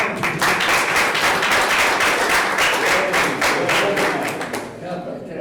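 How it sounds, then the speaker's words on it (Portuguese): Audience applause at an anniversary event for João Simões Lopes Neto in Pelotas, a dense steady clapping from a room of people lasting several seconds and thinning toward the end, with some voices mixed in. "Uma salva de palmas."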